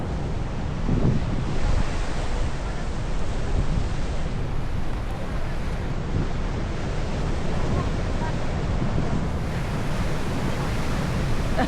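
Broadband sea surf at Diamond Beach, with waves washing steadily onto the shore and a constant roar mixed with wind buffeting the microphone, continuous and fairly loud throughout.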